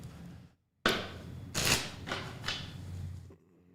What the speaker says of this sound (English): I'm going to have to do a shuffle because I'm using the same Vampers deck for everyone.